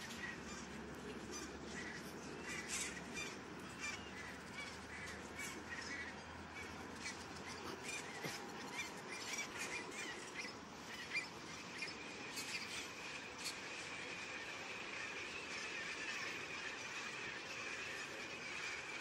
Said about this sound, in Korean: 이렇게 엄청나게 많은 새들 소리가 나서 촬영을 해보고 있습니다